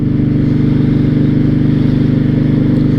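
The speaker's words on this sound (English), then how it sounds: "This is a 2006 Honda VTX 1300" Deep, rhythmic rumble of a 2006 Honda VTX1300 motorcycle engine while riding, loud and close, holding a constant pulsing note with no other sounds.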